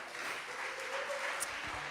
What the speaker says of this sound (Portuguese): Olha, aplaude mesmo